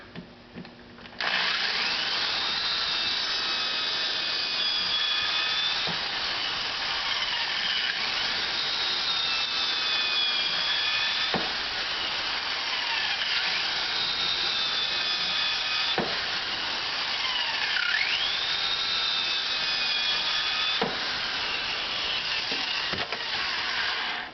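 A power drill bores screw holes into a wooden back piece for a paracord bracelet jig, a steady loud whine running nearly throughout, with brief pitch dips as the bit bites into the wood.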